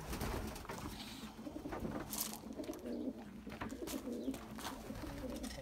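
Pigeons cooing steadily and close by, soft repeated throaty coos layered over one another with no talking.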